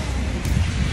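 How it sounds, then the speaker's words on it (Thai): Rain falls steadily during a Christmas-season visit in Los Angeles, a dense, continuous wash of noise with no breaks across the short stretch. "ฝนตกจ้าฝนตกวันนี้ฝนตกนะคะ"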